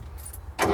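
International 574 tractor diesel engine catching and starting after a quiet pause, the sound rising suddenly and staying loud and steady through the end of the brief moment.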